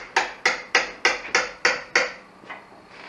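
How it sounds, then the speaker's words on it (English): A hammer tapping a piece of wood into a truck tailgate on an OBS Ford Bronco build, seven sharp, evenly spaced knocks followed by two softer ones, close and clear with no talk. "piece of wood we can tap in with a hammer on the inside there"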